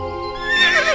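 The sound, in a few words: horse whinnying in Horse Paradise video game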